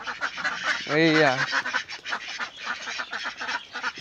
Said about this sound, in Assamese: এইটো হাঁহ পোৱালিটো চাওক